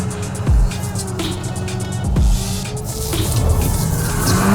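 A Mercedes-AMG car drives slowly through a rollover stability test, giving a steady engine and road drone with a couple of low thumps and a rising rumble toward the end. No talk.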